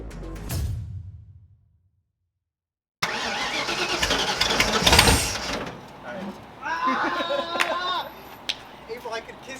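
A Ford Mustang with fouled spark plugs cranks after a silent gap, its starter and engine churning loudly and unevenly, with voices talking over the noise.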